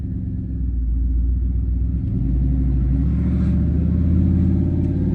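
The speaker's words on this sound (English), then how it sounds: "So right there, I foot braked it. It went up to 20 something hundred RPMs." A car engine revs while the foot brake holds the car in place, climbing past two thousand RPM into a loud, steady low rumble that swells slightly toward the end, close up with no voices.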